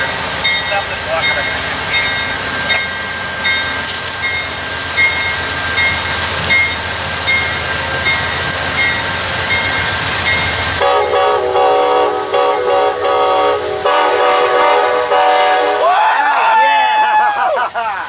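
An Amtrak train pulls out of a station with a loud, steady rumble of cars rolling past, bright tonal horn or whistle lines overhead, then a shift partway through to fainter clatter and squealing as it moves off.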